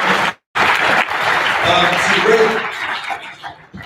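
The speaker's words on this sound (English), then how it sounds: "one more round of applause" A crowd at a company training session breaks into sustained applause, clapping filling the room for a few seconds before tapering off, with a voice speaking over it.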